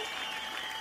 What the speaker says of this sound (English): Let's have some applause.